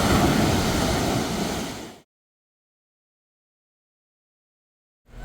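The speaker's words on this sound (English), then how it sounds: "But the waves are pretty big." Big surf rolls in at Seven Mile Beach on Grand Cayman, a loud, steady wash of breaking waves for about two seconds. Silence follows, then the surge returns at the very end.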